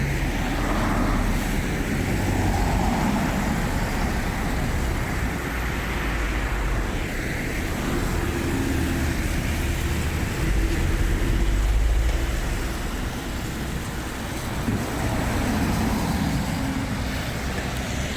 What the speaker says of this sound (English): Got a big truck there. Got a truck coming.